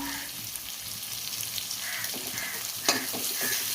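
Chopped onion and green chillies fry in a pan with a close, steady sizzle, broken by a few soft stirring scrapes and one sharper clink.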